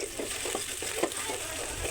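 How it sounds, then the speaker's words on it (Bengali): Chopped onions, with a little garlic, fry in oil as a constant close sizzle, broken by quick soft stirring scrapes at irregular intervals. "আমার পেঁয়াজটা ভাজা হচ্ছে"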